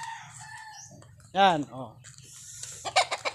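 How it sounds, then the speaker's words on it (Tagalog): A nearby chicken gives a couple of short clucking calls, with a brief spoken voice before and after. "Yan yung manok ko."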